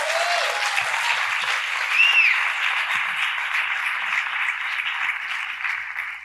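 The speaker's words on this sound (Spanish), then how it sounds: "Sí, eso merece un aplauso." A church congregation breaks into sustained applause, a dense wash of many hands clapping at an even level for several seconds with no break, the sound of a sizeable crowd in a hall.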